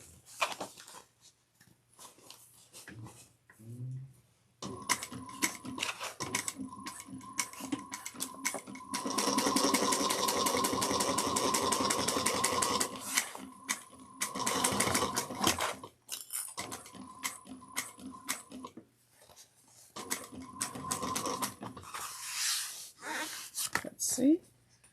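A sewing machine stitches a bucket bag seam at a 3/8-inch allowance, running in bursts of rapid mechanical whirring. The longest run is near the middle, with pauses and soft handling noises between the runs.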